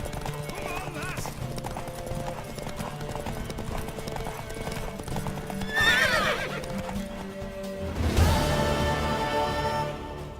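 Horse hooves clip-clop steadily in The Witcher 3, with a loud neigh mid-way and another whinny near the end, over faint background activity.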